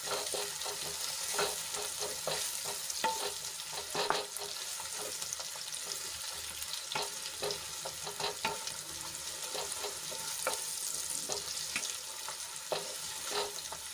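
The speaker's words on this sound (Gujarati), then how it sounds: "એમાં આપણે ડુંગળી એડ કરી લઈશું અને ડુંગળીને આછા ગુલાબી રંગની થાય ત્યાં સુધી આપણે એને સાંતળી લેવાની છે" Onions sauté in a pan with ginger, garlic and chili paste, giving a steady, close sizzle with occasional stirring scrapes and no talking.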